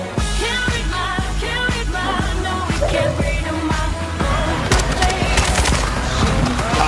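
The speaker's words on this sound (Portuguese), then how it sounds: "Olha um tiro!" Loud bursts of automatic gunfire and rapid shots fill a Call of Duty Warzone match, with repeated close cracks over a busy game backdrop and occasional voices.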